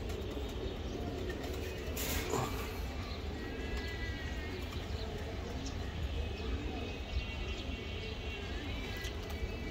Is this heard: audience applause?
no